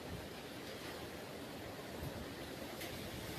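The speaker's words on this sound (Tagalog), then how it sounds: "Ayan, lakas ng hangin na naman." Strong storm wind roars in a steady, dense broadband rush at night during heavy wind and rain, continuous and unbroken throughout with no voices.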